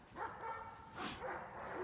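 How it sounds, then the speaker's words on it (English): Neighbouring dogs bark and yip at a distance near a backyard vegetable garden, faint repeated barks in short bursts with some whimpering. "my neighbor's dogs are barking everywhere"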